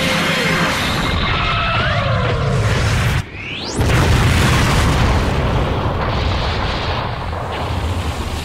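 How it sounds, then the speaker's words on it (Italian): A cartoon energy-attack blast from an Italian-dubbed Dragon Ball Z Abridged fight: falling whistling tones cut to a brief silence, then a rising whoosh bursts into a loud, sustained rumbling explosion that slowly fades. "Bomba di luce!"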